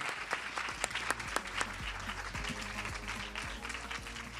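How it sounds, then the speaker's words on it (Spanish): Audience applause at the close of a national youth gathering, with dense, steady clapping from a crowd, loud and sustained throughout with sharper individual claps early on. "los despedimos con un fuertísimo aplauso"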